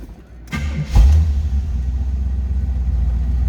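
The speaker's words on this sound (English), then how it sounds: "let's go ahead and fire this up so you can hear it run." A 1979 Pontiac Firebird Trans Am engine cranks briefly, catches with a loud low rumble, then settles into a steady idle, close by.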